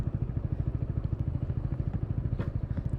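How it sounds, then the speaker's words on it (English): The exhaust of a 2021 Mutt Mongrel motorcycle thumps in a steady, even beat that stays close and moderately loud throughout, with no voices over it. "There is a nice sound out of the exhaust"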